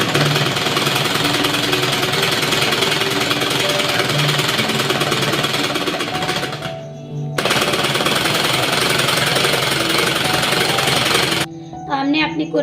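A sewing machine runs fast and steadily, stitching a child's designer kurti made from leftover fabric. The whirring continues loudly, breaks off briefly twice, then resumes.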